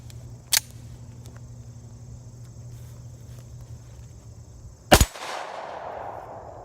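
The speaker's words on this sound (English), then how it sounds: "I'm going to take a few shots and see where we are." Two sharp, loud gunshots from a Rock Island 1911 10mm pistol, the first early and the second several seconds later followed by a brief ringing tail, over quiet outdoor background.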